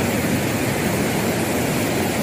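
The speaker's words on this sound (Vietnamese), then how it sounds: "Mời các bạn cùng mình ngắm suối Nà Đon." Stream water rushes steadily at Nà Đoong waterfall, a dense, even broadband roar of flowing water that fills the whole clip, close and constant with no voices over it.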